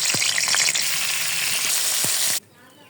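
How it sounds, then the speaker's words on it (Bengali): Rohu fish sizzling loudly in hot oil in a pan, a steady dense crackle with a couple of soft knocks, cutting off abruptly near the end. "আমি এখন মাছ ভেজে নেব"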